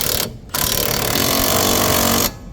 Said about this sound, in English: In my case, the impact was good enough, and I don't need to do that.